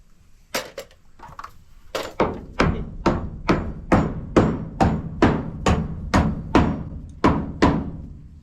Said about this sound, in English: She doesn't like the hammering.